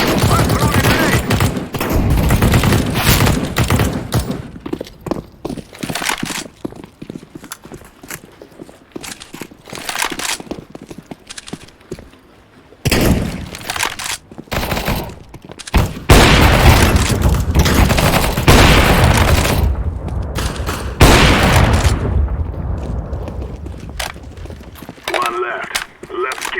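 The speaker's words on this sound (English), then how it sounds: "I'm throwing a grenade!" Grenade blasts and gunfire in CS:GO team deathmatch on the Canals map: loud rapid bursts of automatic fire and sharp cracks, heavy booms mid-clip and toward the end, with voices talking over the action.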